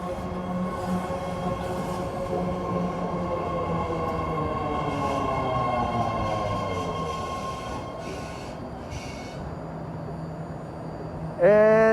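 A 10-car BART Fleet of the Future yellow line train to Antioch pulls into a San Francisco station platform, a loud rumbling roar with tonal motor whine sliding down as it slows, then a sharp squeal at the end.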